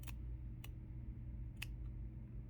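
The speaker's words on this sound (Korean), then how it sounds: "중심을 과감하게 잘라주세요" Scissors snip through fabric along a stitched back-slit opening during a sewing job, three or four sharp crisp cuts spaced apart over a steady low hum, close and fairly quiet, with no talk.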